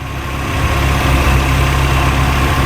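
A 1997 Nissan pickup engine idling while running lean, a steady loud low rumble with constant vibration and no revving, heard up close with no talking.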